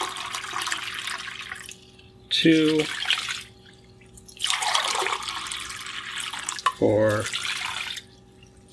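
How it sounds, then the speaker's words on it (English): Water poured into a bowl for sourdough dough comes in two short splashy bursts between quieter stretches, with a person talking nearby. "Now we're just going to add the water."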